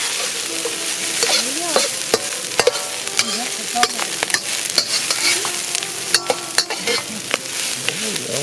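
Stir-frying in a wok with a wok spatula, rapid metallic clicks and scrapes of the spatula repeating over a continuous loud sizzle.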